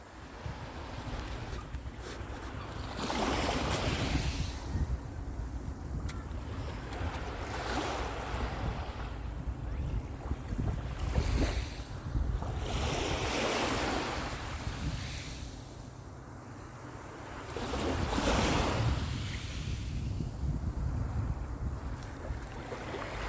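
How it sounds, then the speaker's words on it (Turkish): Sea waves rolling and breaking along the shore of Çandarlı Gulf, a steady surf with surges swelling every few seconds under continuous wind noise buffeting the microphone, with no voices. "şöyle bir dalga sesiyle akşamınıza bir meze vereyim dedim"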